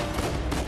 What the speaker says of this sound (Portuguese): eu estou-me a dar tiros ao mesmo tempo que eu estou a fugir, Zé.